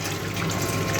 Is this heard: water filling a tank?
yes